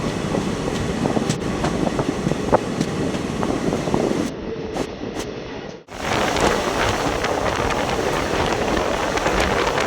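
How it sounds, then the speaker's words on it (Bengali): A passenger train arrives at Alipurduar, its wheels clattering loudly and continuously over the rails with sharp rhythmic clicks, dipping briefly mid-way before the rumble resumes, with no voices. "আমাদের ট্রেনটি এখন আলিপুরদুয়ার এসে পৌঁছলো।"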